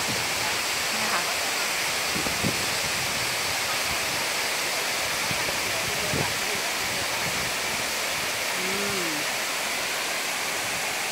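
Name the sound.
Khlong Lan waterfall, water falling from the cliff above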